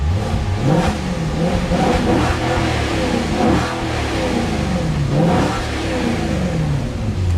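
A loud, raw-sounding straight-piped Maserati Quattroporte S engine revs repeatedly, rising and falling in several throaty surges over a constant rumble, heard up close with no talking.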